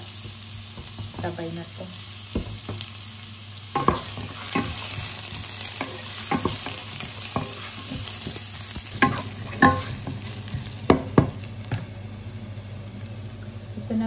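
Garlic and onion sauté in a little oil in a pan, giving a continuous sizzle with clattering stir strokes that grow busier partway through. A voice speaks briefly.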